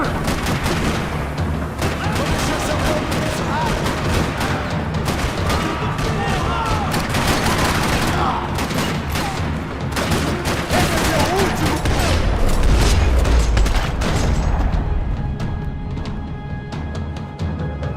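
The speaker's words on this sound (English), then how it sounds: "Another parking lot rattling with gunfire." Sustained gunfire rattles through a parking lot in the video game Max Payne 3, dense overlapping bursts and booms continuing for the whole stretch, loud and close, with game music and voices underneath.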